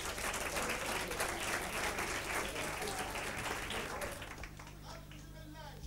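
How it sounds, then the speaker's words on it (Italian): Studio audience applauding at an Italian TV variety show, a dense steady clapping that fills the clip and thins slightly toward the end. "Applauso al Tascabile TV."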